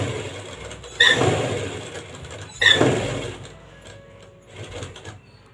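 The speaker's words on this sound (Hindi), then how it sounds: "और एक सिलाई इसकी किनारी पर भी लगा देंगे" A sewing machine stitches along the edge of a palazzo pant pocket in two short, close bursts of running, each about a second and a half long, with quiet pauses in between.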